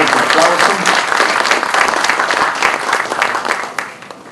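Audience applause fills a university law conference hall, a dense, steady wash of clapping from many hands that holds strong before tapering slightly at the end.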